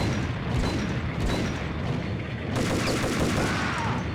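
Shotgun blasts and heavy gunfire fill a shootout in the 2001 PC game Max Payne, with loud booms at irregular intervals over a dense, continuous action soundscape.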